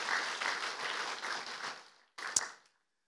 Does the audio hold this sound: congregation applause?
yes